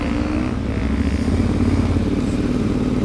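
A Ducati 848 motorcycle engine runs loud and close, a deep throbbing rumble with a slight rise partway through and no speech over it.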